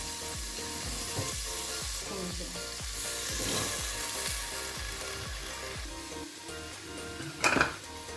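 Potatoes fry and sizzle in hot oil with cumin for aloo biryani while a spoon repeatedly scrapes and stirs the pan in a quick rhythm, with a louder clatter near the end.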